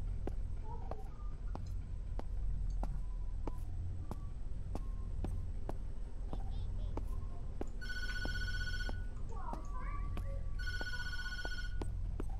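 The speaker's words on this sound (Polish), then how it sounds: "Dobra, nie odbieramy telefonu." Telephone rings inside the horror video game Tattletail, two bursts of bright electronic ringing over a steady low room hum with scattered clicks, moderately loud and alone.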